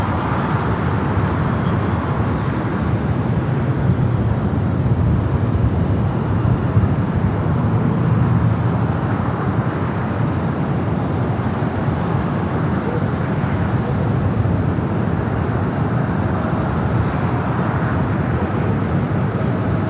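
Steady, loud broadband roar of an aircraft taxiing toward a south-side takeoff at Los Angeles International Airport, continuous for the whole stretch with no voices.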